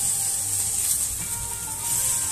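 Onion frying with salt in a pan, a steady close bright sizzle with faint scraping and no pauses.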